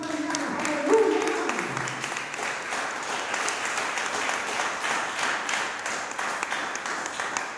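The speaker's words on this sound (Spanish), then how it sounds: "dale un fuerte aplauso al Señor en esta mañana." Church congregation applauding at a Sunday morning service, sustained broadband clapping throughout, loud and steady with a brief voice near the start.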